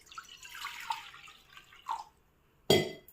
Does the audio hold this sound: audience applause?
no